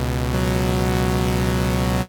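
A Vital synthesizer oscillator in Ableton Live drones a sustained, buzzy, harmonically rich tone that holds steady for about two seconds, with one slight pitch shift near the start.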